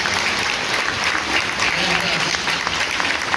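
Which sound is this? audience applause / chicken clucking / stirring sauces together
audience applause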